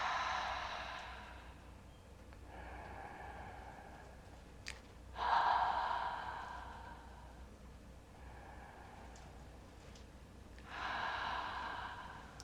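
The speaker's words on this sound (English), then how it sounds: "take 3 breaths, breathing in through the nose and out through the mouth" Slow, deep breaths drawn in through the nose and released through the mouth, three long soft exhalations rising and fading at an unhurried pace, close and quiet with no talking.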